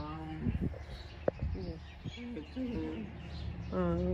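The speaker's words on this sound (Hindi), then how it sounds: "कबूतर बैठे हुए हैं" Pigeons coo and chirp faintly while people talk nearby, with a brief sharp click partway through.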